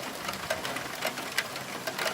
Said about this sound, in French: Et ça y est, ça pleut bien.